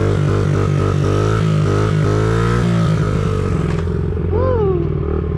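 A small dirt bike engine, held in first gear for wheelies, revs loudly and close in pulsing bursts, then its pitch rises and falls as it accelerates and eases off.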